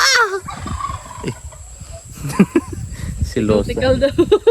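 Turkeys gobble in rapid, warbling bursts among other bird calls, with a person talking over them throughout.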